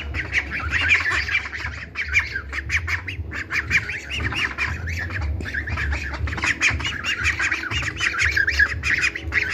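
Geese squawk loudly and continuously at close range, a dense chorus of harsh honking calls overlapping for the whole stretch, like a crowded flock of farm birds.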